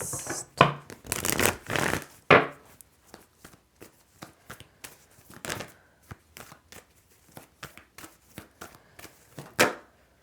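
Tarot cards are shuffled and handled close up in irregular bursts of riffling and slapping, with quiet pauses between.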